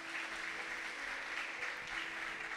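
A church congregation breaks into steady, dense applause, many hands clapping together at moderate loudness with no voices over it.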